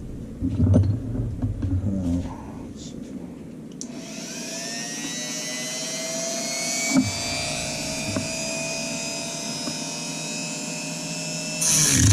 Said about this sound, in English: I'm gonna trim these little triangle pieces and see how it works out for me